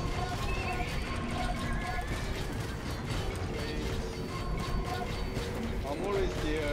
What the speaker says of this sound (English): He's attacking you with the cavalry horses, bro.